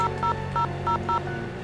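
A cell phone in the Nancy Drew game The Haunted Carousel dials out, five crisp touch-tone beeps in quick, slightly uneven succession over a low background hum.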